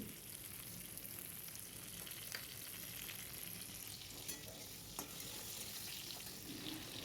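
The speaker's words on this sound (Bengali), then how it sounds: "আমি ঢাকা দিয়ে দিয়েই ভাজছি" Pointed gourd fries under a lid in a pan, a soft, continuous sizzle heard faintly and alone, with a couple of tiny ticks near the end.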